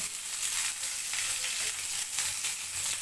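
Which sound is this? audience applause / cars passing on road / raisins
raisins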